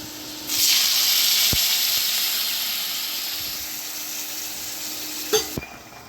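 Yogurt poured into a pan of spices and potatoes being fried, raising a loud, steady hiss and sizzle that swells at the start and then slowly fades, with a couple of sharp clinks near the end.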